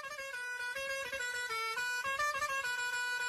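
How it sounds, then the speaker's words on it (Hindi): A loud, sustained car horn blares steadily at a high pitch for a few seconds, with no voices around it. "कोई गाड़ी हॉर्न बजाते हुए स्पीड में तुम्हारे पास आती है"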